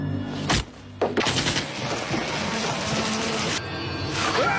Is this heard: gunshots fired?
yes